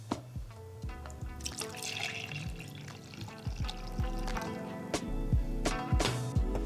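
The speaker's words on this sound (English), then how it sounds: "Then you need to pour 200 milliliters of the black tea." Black tea poured into a cup holding a spoonful of tapioca pearls, a steady liquid stream with faint dripping and splashing, close and continuous with a few clinks, no talking.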